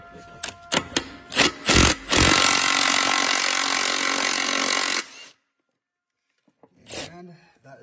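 Loud power tool work on a 4L80E ladder truck transmission, pushing off the center shaft to pull a welded direct drum and sprag: a few sharp bursts, then a sustained harsh grinding roar for about three seconds, a pause, and one more short burst.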